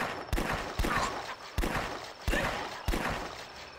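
Five evenly spaced .357 revolver gunshots ring out in The Last Stand, a zombie-shooting flash game. Each crack is sharp and close, with a short decaying tail before the next shot, and no talk over them.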